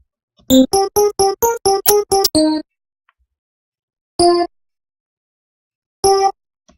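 Crisp synthetic percussion hits programmed in FL Studio over Fruity DX10 harmonic tones: a rapid run of about nine evenly spaced bright clicks, then two isolated hits after long silent gaps, dry and close.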